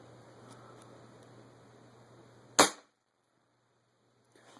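A single sharp crack from a .25 caliber Marauder air rifle fires once, loud and close, after a steady background hum, then quiet follows.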